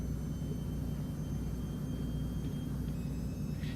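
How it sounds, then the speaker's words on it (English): A Battle Truck in American Truck Simulator gives a steady, low turbine whir and rumble with a faint high whine above it, a continuous looping drone with no talk. "you can hear the turbine whirring in the background"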